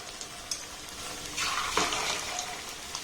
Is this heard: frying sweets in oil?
yes